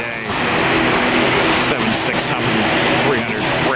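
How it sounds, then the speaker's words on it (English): A FedEx Boeing 767-300 freighter jet at Tampa airport, its engines a broad steady roar at moderate distance that holds through the whole stretch, with people talking over it. "767-300 freighter by FedEx."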